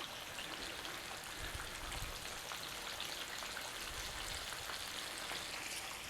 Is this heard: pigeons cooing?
no